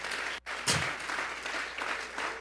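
A church congregation applauds in a dense, continuous burst of clapping that fills the room, with a short dip before it swells again.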